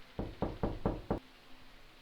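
Five firm knocks, like knuckles rapping on a door, land in a quick, even series and then stop, leaving near-silence with no talking.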